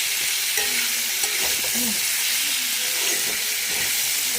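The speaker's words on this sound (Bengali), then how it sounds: "একটু ভাজা হোক" Food fries in a pan with a dense, even hissing sizzle throughout, faint scrapes of stirring and a few soft clicks beneath.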